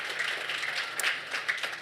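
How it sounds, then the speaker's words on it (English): An audience at the Sasol TechnoX 2023 event applauds a speaker, a short burst of faint, steady clapping from a crowd. "Can we please give her another round of applause?"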